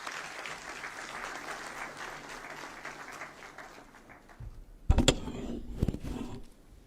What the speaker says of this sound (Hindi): आप सबकी तालियों के प्रणाम के अभिवादन के साथ।